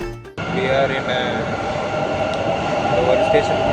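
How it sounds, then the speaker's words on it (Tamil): Inside a metro station, a continuous rumbling drone of a train or rail machinery fills the space, with a steady hum and faint higher whine holding throughout after a brief quiet opening. "we are in metro station guys"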